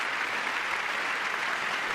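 A large audience at a joint session of Congress applauds, a dense, sustained wash of clapping that holds at a steady level from start to finish with no voices standing out.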